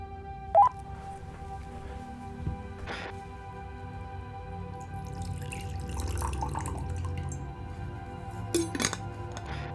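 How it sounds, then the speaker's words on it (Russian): Water is poured from a thermos as a quiet trickle in an abandoned house, with a few faint clinks and drips along the way and a silent background. "У меня в термосе есть немного воды. Давай сейчас я налью."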